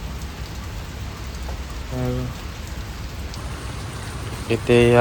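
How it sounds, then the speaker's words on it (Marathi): Rain pours outside in Gokarna, a constant close wash of hiss. Brief voices cut in around the middle and again near the end. "बाहेर पाऊस आहे, रात्री खूप पाऊस पडला"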